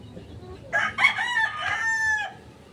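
A rooster crows once, loud and close, a single drawn-out call lasting about a second and a half against a quiet backdrop.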